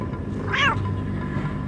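A single clear cat meow rises and falls over a low background hum, moderately close and heard alone without any talking.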